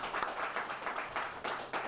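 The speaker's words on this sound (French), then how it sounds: "Veuillez l'applaudir." An audience claps for the laureate of a summer quiz at a bar association ceremony, a steady crowd of hands applauding with some sharper individual claps standing out.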